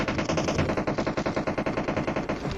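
Automatic gunfire in PUBG Mobile played on an iPad, a fast steady stream of close, loud rounds hammering in an even rhythm for several seconds.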